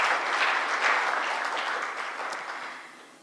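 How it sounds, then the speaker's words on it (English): An audience claps in a brisk round of applause at a justice report release event, dense and fairly close at first, then gradually fading as the clapping dies down. "I believe she deserves another round of applause."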